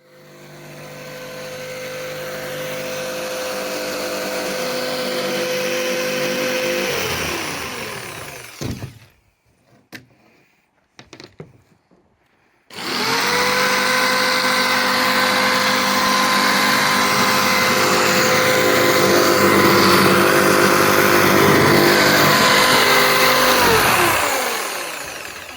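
A power tool cuts socket holes in interior wall boards, its motor whining loud and close for about seven seconds, then stopping for a few seconds of quiet knocks before a second long, steady cutting run winds down.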